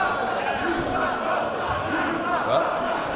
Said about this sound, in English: crowd clearly agreeing with the assessment of Jones as he watches his protégés here